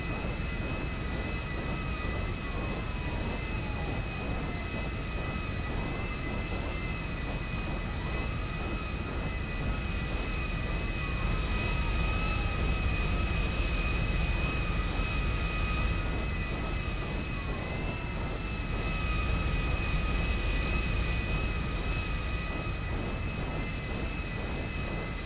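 In GTA V, an airliner taxis with its jet engines giving a steady loud roar and a high whine. Faint rising and falling tones sweep across it for the whole stretch, with no speech.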